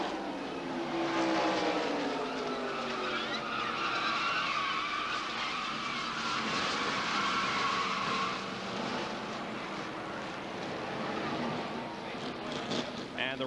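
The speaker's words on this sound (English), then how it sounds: "The cars are being told to stop near the exit of pit road." NASCAR Winston Cup stock cars roar past at speed during a red flag at Daytona, a loud sweeping engine rush that swells and fades, with a commentator talking over it.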